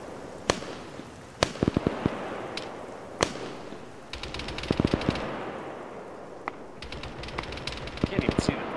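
Gunfire from an LAV and infantry weapons in the Arma 3 military game: scattered single shots, then sustained rapid bursts with distant booms, fairly loud and mixed with voice chat.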